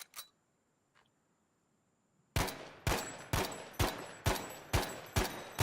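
Rifle fire at the practice range in Battlefield V on Xbox One, going for body shots: a faint shot or two, a pause, then a steady run of seven loud, evenly spaced single gunshots, each with a short decaying tail.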